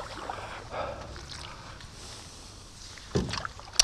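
Paddle strokes and faint water sloshing as a small boat moves down a shallow creek, quiet and near, with a few louder splashes and knocks toward the end.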